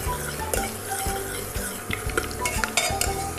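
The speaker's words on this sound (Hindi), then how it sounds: "प्याज को ब्राउन कर लेंगे" Chopped onion browning in a pan with cinnamon, cloves and bay leaf for aloo gosht, a spoon scraping and clinking against the pan in repeated strokes over a soft sizzle, close by.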